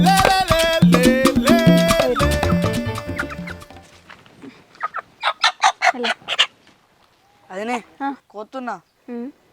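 A loud, dense burst of clucking and calls from native country chickens in a village, then a series of short, separate clucks spaced out over the following seconds.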